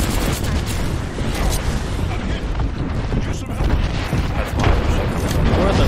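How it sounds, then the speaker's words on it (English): Airstrike explosions rumble through a busy video game firefight, a dense, continuous wash of booming blasts and low roar with no clear gaps, while players talk over the din. "Heads up, we've got an airstrike coming in."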